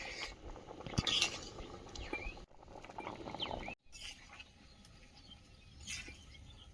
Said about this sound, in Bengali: বিশাল জ্বালা জ্বলছে আজের উনুন আর ডালও ফুটতেছে